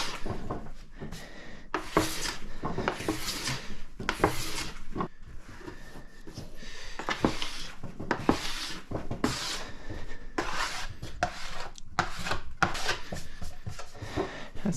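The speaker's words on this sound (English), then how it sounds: "I'm just gonna do one more pass with this scraper there." A scraper rasps excess wax off a snowboard base during hand waxing at home, a series of close, short scraping strokes in an irregular rhythm.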